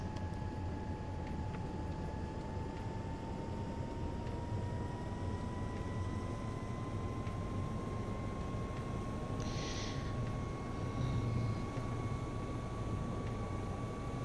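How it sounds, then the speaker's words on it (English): Simulated EC135 helicopter in X-Plane, its rotor and turbine spinning up on the ground: a steady broadband whine with a slowly rising tone, continuous and fairly loud throughout, with no talking. "So I'll bring the rotor RPM up"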